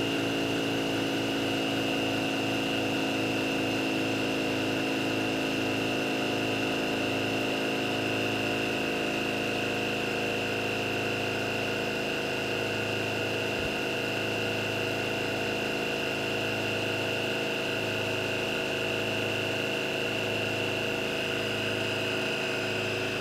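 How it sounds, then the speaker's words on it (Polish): A VEVOR portable air pump runs steadily while inflating, its motor now working faster with a fast, even mechanical buzz that is loud, close and continuous, with no talk. "No i teraz słychać od razu, zobaczcie jak ta pompka w ogóle teraz szybciej"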